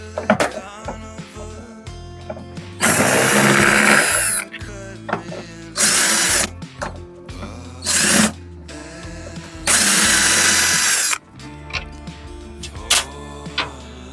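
A cordless power drill whirs in four short bursts while backing out screws from the panel of an LG 19kg washing machine, loud and close, with small clicks and handling sounds in the gaps.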